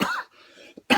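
A single harsh, close cough bursts out, then a short pause and the start of another cough at the end.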